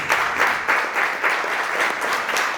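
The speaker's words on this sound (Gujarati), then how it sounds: "આપણે તાળીઓ પાડીએ" Audience applause at a devotional gathering with a swami in Auckland, steady clapping from a crowd that swells in several waves and continues throughout, with no talking over it.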